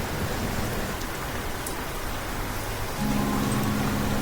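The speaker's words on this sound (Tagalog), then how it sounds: "Habang patuloy ang bagyo sa labas" Steady rain pours outside during a storm, a dense, even hiss that swells slightly louder near the end, with no voices.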